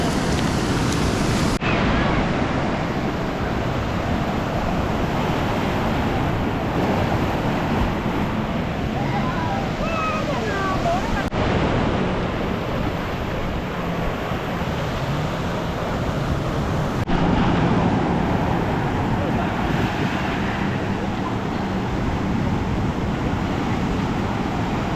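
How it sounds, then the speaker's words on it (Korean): Ocean waves breaking on a beach with high surf, a continuous wash of noise with wind buffeting the microphone and a few surges over about twenty-five seconds. "파도가 높아서 재밌겠다."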